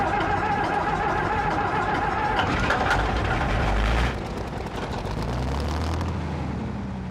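Willème diesel engine of an old Le Vivarais railcar running, a steady loud rumble with rattling mechanical texture that shifts slightly partway through and continues throughout, with no speech.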